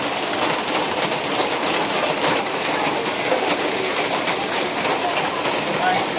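Heavy rain pours over a village, a dense, steady roar of water that holds at an even, loud level throughout without letting up.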